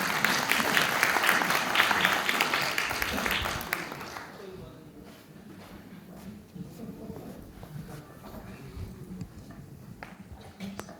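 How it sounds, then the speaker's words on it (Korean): Conference audience applauds loudly at the opening ceremony of an ITS academic fall meeting, dense clapping for about four seconds that then fades into room chatter and shuffling as people move to the front. "큰 박수로 모시겠습니다."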